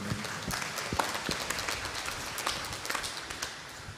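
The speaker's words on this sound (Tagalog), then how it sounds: "Palakpakan po natin ang mahal na Birhen" A church congregation at the solemn feast of the Virgen de los Remedios, patroness of Pampanga, applauding the Virgin: a steady wash of many hands clapping at moderate distance, with scattered sharper claps standing out.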